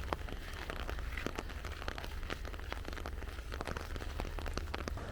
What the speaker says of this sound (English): Well, guys, unfortunately it's raining.